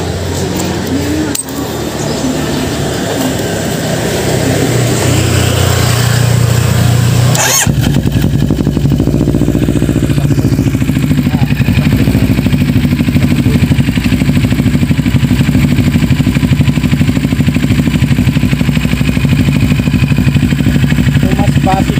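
A motorcycle fitted with a restored Yoshimura exhaust starts with a clatter, then idles and revs in a deep, loud, steady rumble that fills the rest of the clip.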